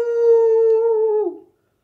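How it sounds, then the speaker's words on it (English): A single mournful wolf howl, a long steady wavering tone that holds for over a second, then bends downward and fades out, heard alone and up close. "The wolf held a mournful lupine howl."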